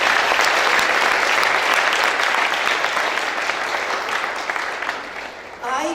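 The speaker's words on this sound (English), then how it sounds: "So give yourself a big round of applause." Christel House graduating students at their 2017 graduation ceremony break into loud, sustained crowd applause that fills the hall and thins out slightly toward the end.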